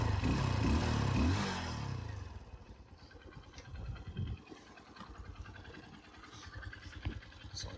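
A Honda XR150L supermoto motorcycle engine starts with a loud, close burst, then settles into a steady, lower idle with a faint clatter, and no one speaks.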